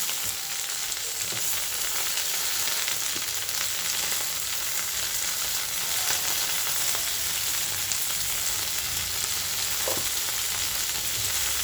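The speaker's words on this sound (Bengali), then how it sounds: "এবার নুন আর হলুদ দিয়ে আমি শিমটাকে খুব ভালোভাবে ভাজা ভাজা করে নেব" Steady, close sizzling of flat beans frying in a pan with salt and turmeric, a continuous crackling hiss with a few faint scrapes, no voices.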